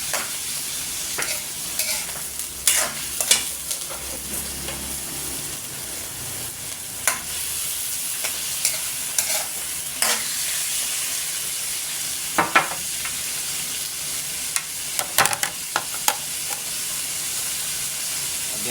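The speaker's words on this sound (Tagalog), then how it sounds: "Yung pork chop po na yung igisa natin una." A pork chop sautés in a hot pan for a stew of mung beans with shrimp, giving a loud, steady sizzle and hiss throughout, broken by occasional clicks and scrapes of a utensil moving the meat.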